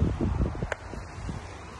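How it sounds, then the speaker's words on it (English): Gusty wind blows across the microphone in low rumbling bursts at a shoreline state park, with a soft rustle underneath and no talking. "It's quite windy."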